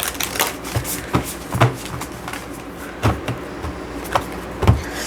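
Oracle cards being shuffled by hand, a series of crisp riffling and tapping bursts at irregular intervals, close up.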